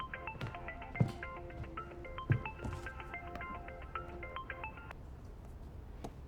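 An electronic phone ringtone plays a repeating melodic pattern of beeping tones for several seconds before stopping, fairly quiet, with a few soft knocks and no talk.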